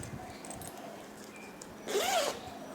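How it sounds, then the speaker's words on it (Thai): A zipper being pulled open on a tie-dye cloth bag, one quick close rasping zip after quiet handling rustle, soft overall and without speech. "เวลาเราเปิดซิปออกมา"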